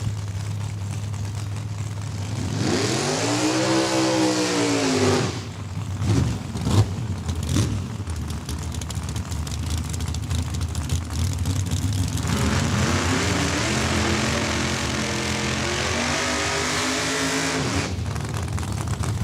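Drag race cars, including an IROC 84 Camaro, roar off the line and accelerate down the strip at Saskatchewan International Raceway, their engines rising in pitch in two loud runs, one early and one later.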